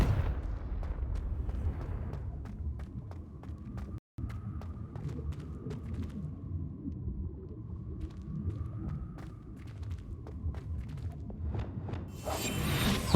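Repeated explosive spell blasts in the Hogwarts Legacy video game, a steady run of sharp bangs and rumbling bursts over a low roar, loud and close, with a brief dropout midway and a hissing burst at the end.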